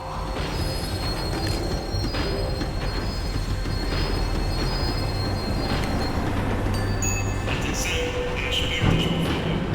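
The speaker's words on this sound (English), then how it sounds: "The tram was slowing down, and I'd only just gotten on board." Tram rolling and braking on rails in Max Payne 3, steady rumbling wheel noise with metallic squeal throughout, loud and close, no speech.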